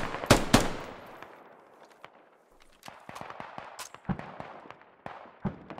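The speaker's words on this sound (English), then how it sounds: "He's firing." Gunfire rings out in the video game SquadOps: two loud opening shots, then a scattered series of sharper cracks at irregular intervals, some fainter and more distant.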